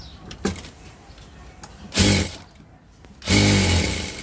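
Two short, loud mechanical bursts of a sewing machine stitching fabric, each lasting under a second, separated by quiet pauses and faint handling clicks, close to the listener.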